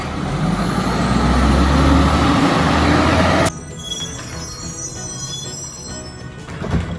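Republic Services garbage truck runs with a loud, close engine rumble that cuts off abruptly, leaving a quieter idle hum with a faint clank near the end.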